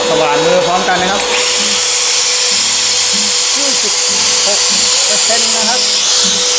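An electric hand drill powered from a 2022 MPS-5500H hybrid off-grid high-voltage inverter whirs up after a man's speech and then runs as a loud, steady whine, with his talking continuing over it.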